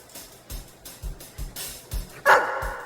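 A dog barks repeatedly during a children's basketball game in the film Air Bud, with about six evenly spaced low thumping barks over crowd noise, followed by a louder, higher call near the end.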